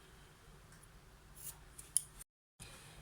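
Scissors snipping a crocheted granny-style pumpkin, a few soft close snips and rustles of yarn, then a brief gap of silence before a quieter snip.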